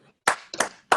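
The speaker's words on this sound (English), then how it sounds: "A round of applause from wherever you are in the world." Clapping after the opening session of an education tech conference ceremony, three sharp close claps, likely a single pair of hands, separated by silence.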